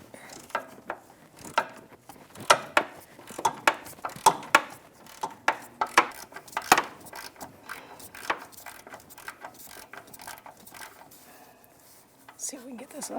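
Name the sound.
16mm deep socket breaking free a sway bar bushing bracket bolt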